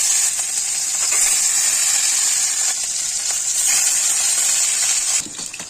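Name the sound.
katla fish pieces frying in hot oil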